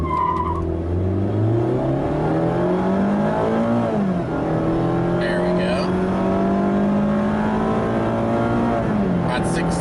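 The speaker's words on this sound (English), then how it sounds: "Let's do a nice 0 to 60, and I am gonna brake torque it." A 2020 Mazda MX-5 Miata RF launches hard from a brake-torque start and accelerates from 0 to 60, its engine revving and climbing through gears in loud, sustained pulls close to the microphone, with a brief tire chirp early on.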